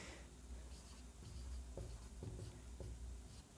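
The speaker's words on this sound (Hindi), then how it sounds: "तो मैं यहां से सवाल लिख रहा हूं आपके लिए" Marker or chalk scratching out a question on a classroom board, a few short faint strokes in irregular bursts over steady room hiss.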